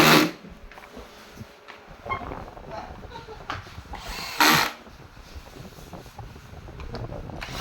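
A power drill driving bolts into a Yokisa massage machine during reassembly, giving short whirring bursts with a louder burst near the middle, close and intermittent over background noise.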